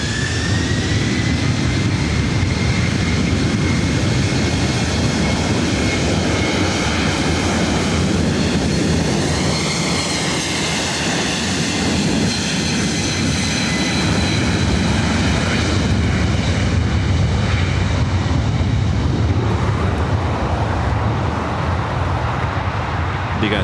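Delta 951 Heavy jet taking off at LAX, a loud sustained engine roar with rising and falling whine tones that swells and holds steadily throughout, close and dominant with no talk.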